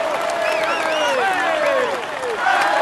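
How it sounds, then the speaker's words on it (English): Crowd applause at a Tour de France podium in a retro cycling video game: steady, loud clapping and cheering with sweeping whistles over it, and a voice talking through it. "Come on, let's applaud him once more."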